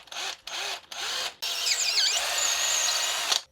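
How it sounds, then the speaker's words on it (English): A power drill bores holes in handmade swimbait body pieces. Three short whirring bursts are followed by one longer continuous drilling run with a rising whine, loud and close, with no talk. "I'm gonna go ahead and drill holes in these things"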